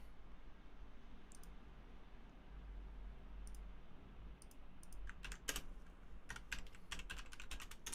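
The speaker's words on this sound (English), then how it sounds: "I've got a different keyboard now, so my ability to actually type is impossible." Clicky bursts of typing on a new computer keyboard, sparse at first, then more rapid keystroke clusters, recorded close but quiet over a low background hum.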